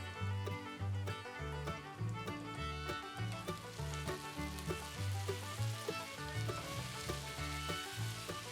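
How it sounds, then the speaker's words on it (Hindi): Beef frying in four to five tablespoons of hot oil in a pan, a steady crackling sizzle with rhythmic stirring pulses, loud and close, with no talking. "पैन में डालेंगे 4 से 5 टेबलस्पून ऑयल और ये बीफ इसमें डालेंगे और फ्राई करेंगे।"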